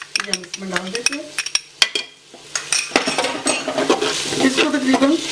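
Ginger garlic paste hits browned onions in a pot, crackling and sizzling loudly as a metal spoon clanks and scrapes against the sides in quick, uneven strokes.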